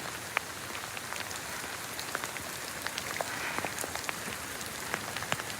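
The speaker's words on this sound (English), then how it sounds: "hopefully the rain to kind of slow down a little bit" Steady rain falls on the grounds of Big Cat Rescue in Tampa, Florida, a dense, even hiss of drops pattering on surfaces with a few sharper, closer splats throughout, no voices.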